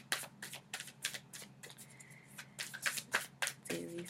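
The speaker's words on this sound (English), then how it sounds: "let's get a little shuffling." Cards being riffled and shuffled in quick repeated bursts, crisp and close, with a short tonal sound near the end.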